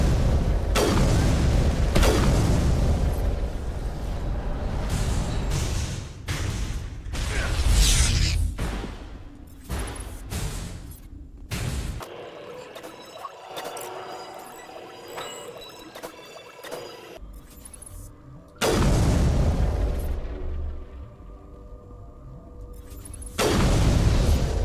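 Mass Effect combat fills the scene with bursts of gunfire and booming explosions, loud in irregular clusters, separated by a quieter stretch of faint game ambience.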